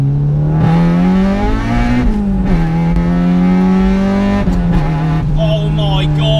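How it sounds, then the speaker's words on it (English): A 235 bhp naturally aspirated B16B engine in a front-wheel-drive Honda Civic EK4 revs out hard in second gear, with a loud, steady, rising intake and exhaust howl close by, a brief dip at the shift, then the howl climbs on again. "Let's rev it out. Second gear."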